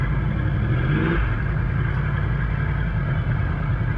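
A 2018 Yamaha R1 1000 cc superbike fitted with an Akrapovic Evolution Line full exhaust system runs on a congested road, its engine giving a steady, close, throaty drone with a brief rise in revs early on.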